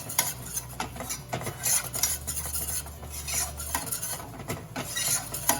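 A utensil scrapes and taps repeatedly inside a pot while cauliflower soup cooks, close and steady, with a soft sizzle underneath and no talking.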